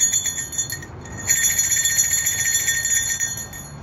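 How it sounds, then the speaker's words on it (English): A small hiking bear bell for snowshoe backpacking jingles steadily with bright, shimmering metallic tones, briefly pausing before ringing on close and fairly loud. "This is a bear bell."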